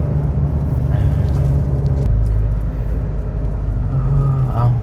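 Car driving along a rural road, a steady loud engine drone and tyre rumble filling the whole stretch close up from inside, with faint voices underneath.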